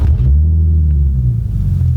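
A 2012 Infiniti G37 Journey sport sedan with an aftermarket exhaust, push-button started, rumbles steadily at idle, a deep continuous low drone close by with no talking.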